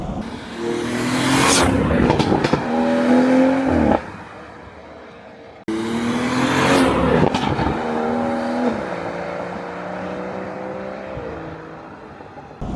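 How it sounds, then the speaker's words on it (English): A car with a BMW B58 inline-six engine roars past twice, its exhaust rising to a loud, raspy pitch then dropping away as it passes and fades. "how crazy the exhaust sounds"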